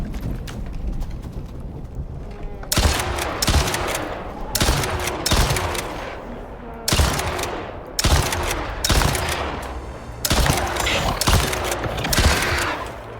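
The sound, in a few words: gunfire in the video game Icarus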